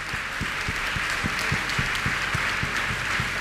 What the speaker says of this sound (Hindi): तालियां बहुत कम बज रही हैं।